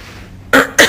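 Two sharp coughs from a person close by in a small back bathroom, the second following about a quarter second after the first, each loud and abrupt against a quiet hiss.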